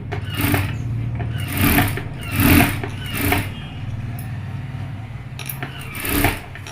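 Sewing machine stitching a blouse: short motorized runs of stitching, each lasting under a second, repeat irregularly with brief pauses and a low hum between them, close and moderately loud.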